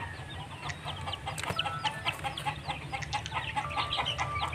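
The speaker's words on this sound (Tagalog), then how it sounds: "Mga native chicken po ito sila lahat" Free-range native chickens clucking close by, a busy flock giving rapid overlapping clucks and short calls over a steady low background rumble, with no talking.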